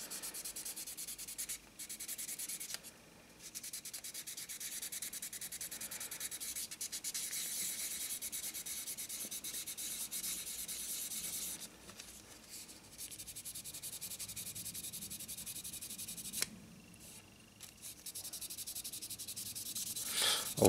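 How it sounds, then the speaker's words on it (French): Steady, close scratchy sanding as primer is rubbed off a plastic 1/24 scale Citroën DS 19 model car body, continuous with a few short pauses, quiet and with no talking. "on vient poncer juste pour enlever la couche de primeur"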